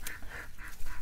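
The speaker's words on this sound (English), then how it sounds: "our ducks are now out of the pen and on the pond, and look how happy they are." Farm ducks on an open pond give a few short nasal honking calls, moderately close, in brief repeated bursts over faint outdoor background noise.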